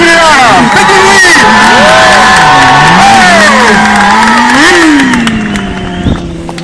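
A loud crowd cheers and whoops at a 2012 charity bike event, a sustained roar of voices with rising shouts close by, some talk mixed in, fading slightly toward the end.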